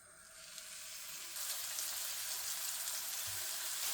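Lamb kofta patties frying in melted butter in a pan over medium heat, a soft, steady hiss and crackle that grows slightly louder partway through.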